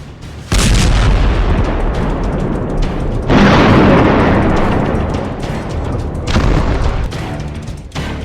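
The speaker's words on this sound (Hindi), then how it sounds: "इजरायल की फोर्स गाजा पर लगातार बमबारी कर रही है।" Heavy bombardment explosions in Gaza boom loudly one after another, with deep rumbling blasts and sustained roaring that swells in several waves.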